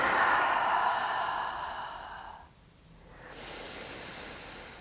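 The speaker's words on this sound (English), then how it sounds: "just close down the eyes and just take some deep breaths" Slow, deep breaths during a seated bedtime yoga session: a long, airy exhale tapers into a brief pause before the next inhale begins. Close and quiet, with no talk.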